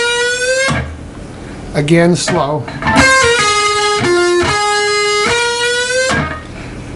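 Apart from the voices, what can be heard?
guitar playing a lead lick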